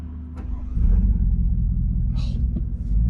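A vehicle slowly creeping past on a trail, a low steady engine rumble that swells after the first second and holds close and fairly loud, with a few faint knocks on top.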